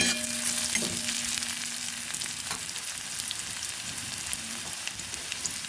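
Onion sizzles as it fries in a pan for a fish curry with potatoes, a steady close crackle throughout with faint scraping stir noises and no talk.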